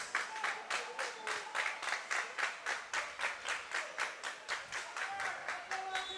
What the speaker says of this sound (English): Their hands are going to be sore after all that synchronized clapping